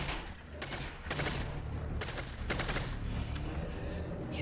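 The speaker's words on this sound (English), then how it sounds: "I'm really glad this SMG's working again" SMG fire in the VR shooter Half-Life: Alyx, bursts of rapid shots with short pauses between, loud and close, over a dense game background.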